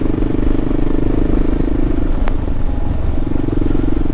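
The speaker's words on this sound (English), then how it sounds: "This KLR doesn't really like to hit the big ruts." A KLR motorcycle rumbles steadily at close range while riding over a rutted, washed-out dirt road, its engine note constant with a single sharp click partway through.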